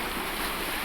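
Ocean waves in a relaxing recording, a steady, full broadband wash of surf with a faint breezy hiss, continuous and even throughout, no voices.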